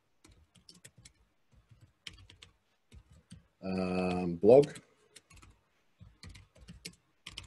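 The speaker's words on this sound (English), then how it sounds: "If I can only type, this is going to be my challenge today" Typing on a computer keyboard while writing in Google Docs, bursts of quiet, close key clicks in irregular clusters with short pauses, interrupted midway by a brief spoken word.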